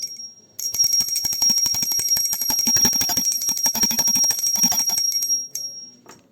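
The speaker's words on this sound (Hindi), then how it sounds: "हम घंटी बजाकर भोग लगा लेंगे।" A small handheld prayer bell rings continuously during a Hindu food offering of mixed vegetables with tulsi leaves, a rapid, bright, shimmering clang held for about five seconds before stopping, loud and close with no talking.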